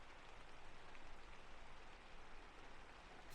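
Steady rain falling outdoors, a dense, even hiss of drops that holds unchanged throughout, soft and continuous with no voices.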